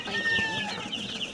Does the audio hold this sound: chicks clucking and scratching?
yes